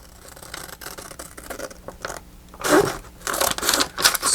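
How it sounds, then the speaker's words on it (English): Big scissors cut straight across a sheet of paper for a journal craft piece, making crisp crunching snips that grow louder and choppier in the second half, with no talking. "Just going to trim that straight across"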